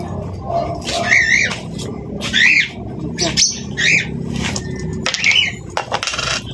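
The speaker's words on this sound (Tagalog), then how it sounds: "Mag-alkansya yung ibon natin mga idol." A pet bird does a piggy bank coin trick, with repeated chirps and squawks, wing flutters and small clicks, while someone talks nearby.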